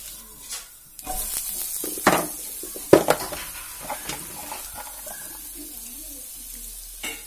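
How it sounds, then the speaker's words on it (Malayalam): Onion pieces fry in coconut oil in a pan for a chicken dish, giving a steady close sizzle with a few sharp stirring clatters and scrapes near the start, then settling into even hissing. "ഇത് കഷ്ണങ്ങളാക്കി ഇതിലേക്ക് ഇട്ടുകൊടുക്കാം"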